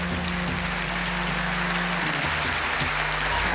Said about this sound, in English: Big clap, big clap.